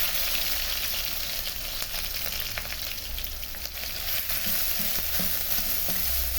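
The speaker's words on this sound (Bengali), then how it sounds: "আমি প্রথমে তেলটা গরম করে নিলাম, তারপর দিয়ে দিলাম পেঁয়াজ, রসুন বাটা আর ঝাল।" Onion, garlic paste and chili fry in hot oil for a village-style bottle gourd and egg curry, making a loud, dense, continuous sizzle up close with faint stirring scrapes and no voices.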